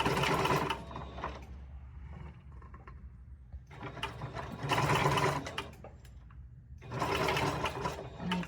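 A sewing machine stitches an M1 helmet chin strap in three loud, close bursts of rapid mechanical clatter separated by short pauses, with no talk over it.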